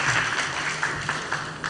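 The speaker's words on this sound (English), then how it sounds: "Big applause to the second presenter, Rodia." Applause from a conference audience after a presenter, a steady clatter of clapping that fills the space for a couple of seconds with no talking over it.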